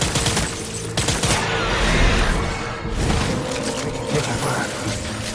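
A firefight in Death Stranding: dense, continuous volleys of gunshots with sharp cracks and mechanical rattling over a loud, busy combat bed, heavy and unbroken across the whole stretch.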